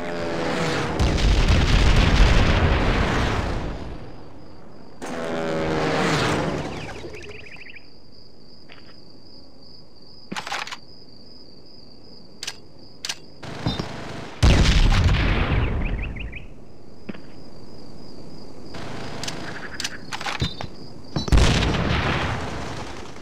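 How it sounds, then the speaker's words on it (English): Frag grenade explosions in the Call of Duty: World at War Final Fronts video game, a series of loud booming blasts with rumbling decay, separated by quieter stretches holding a steady chirping insect-like game ambience and a few sharp clicks. "Toss a frag grenade through it."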